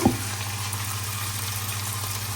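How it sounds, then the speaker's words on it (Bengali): Prawns sautéing in a pan give a loud, steady, close sizzle with a brief clack at the start and no talk. "এখানে চিংড়ি মাছ কিন্তু আমি একটু কষাই করছি এখন"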